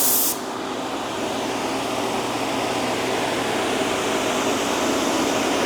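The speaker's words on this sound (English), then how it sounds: "Now you might be picking up some of the fan noise from my microphone" Steady broadband whoosh of a spray booth exhaust fan running during spray painting of cabinet parts, a constant close hiss with a low hum underneath, opening with a brief brighter burst of spray.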